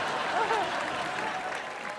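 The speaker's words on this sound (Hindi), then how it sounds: "जोरदार तालियां हो जाएं।" Studio audience applause at a comedy entertainment show, a dense, steady wash of clapping lasting throughout, with a brief voice rising over it near the start.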